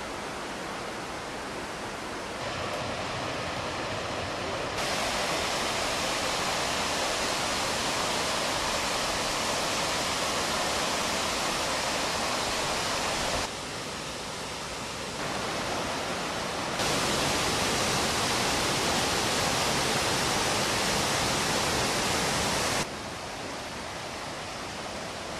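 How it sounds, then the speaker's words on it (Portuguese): The Cachoeira do Paraitinga waterfall in the forest roars as a steady broadband rush of falling water, loud and constant, its level shifting slightly as the listening position changes, with no voices. "Conheça no local a Cachoeira do Paraitinga em meio à mata."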